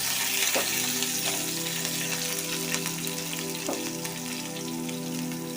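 Green chillies, finely chopped, are stirred into samosa filling frying in a pan, giving a steady close sizzle with a few sharp scraping clicks from the spoon and no voices.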